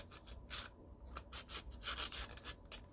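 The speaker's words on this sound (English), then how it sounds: "Just gotta sand the roughness out of it a little" Wood being sanded by hand on a part for an 18th-century style shot pouch, close-up abrasive rubbing strokes in an uneven rhythm, with no voices.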